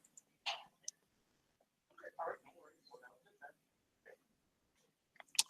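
Mouse clicks while building a Hubbli form, a few soft, sparse clicks scattered among quiet, close speech.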